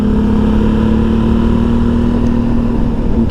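A motorcycle engine drones loud and close with a steady pitched hum as it climbs a winding mountain road at Grand Ballon in Alsace, continuous throughout with no talking.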